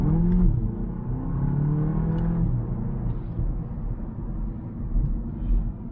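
A VW Polo GTI accelerates at full throttle, its engine note rising in a steady droning rumble heard from inside the car.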